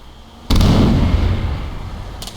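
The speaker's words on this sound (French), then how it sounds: "Ça tire de partout." Gunfire and stun grenades in a video-game bank robbery: a sudden loud blast-like burst rings out and decays into sustained noisy rumble, with a second crackling burst near the end.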